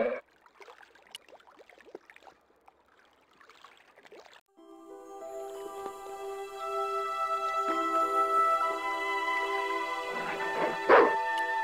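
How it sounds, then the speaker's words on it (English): A trained guard dog barks in Broken Sword II on Marseille's docks, a few scattered barks early on, then a louder single bark near the end over a sustained musical drone. "Just remember, he's a trained attack dog."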